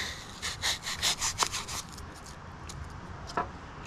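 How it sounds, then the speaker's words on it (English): A foam squid bait being cut down to size, several rasping sawing strokes close by in quick rhythmic bursts, then quieter scraping with a single sharp scratch near the end. "So first off, I'm just going to cut him down like this."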